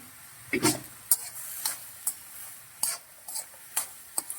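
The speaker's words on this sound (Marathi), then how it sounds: "वाटाण्यासोबत बटाटा सुद्धा छान परतला जाईल" Green peas and potato sautéing in a pan for a curry, with a spoon stirring and scraping in irregular clinks and soft sizzle, close and fairly quiet, no talking.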